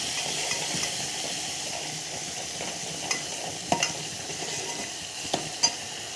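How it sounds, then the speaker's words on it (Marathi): Mustard seeds, cumin and finely chopped green chili frying in hot oil in a pot, a steady close sizzle and hiss with a few sharp pops and crackles near the end. "पातेल्यामध्ये तेल ठेवले आहे, तापलेलं आहे. थोडीशी मोहरी, थोडेसे जिरे आणि आपण ही हिरवी मिरची बारीक केलेली फ्राय करायची आहे."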